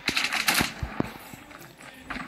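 Rapid Tech 9 gunfire in Warzone Mobile, a burst of sharp, close shots in quick succession followed by a few scattered pops and quieter game noise.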